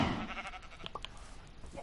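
Sheep in PS4 Minecraft give a few short, wavering bleats over a couple of seconds, fairly close and clear with no talking.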